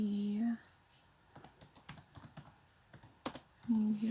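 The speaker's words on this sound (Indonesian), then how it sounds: "ketik aja ya, Nadia" Typing on a computer keyboard during a spreadsheet tutorial: a quick irregular run of light key clicks, close and fairly soft, framed by brief humming tones at the start and end, with no talking over it.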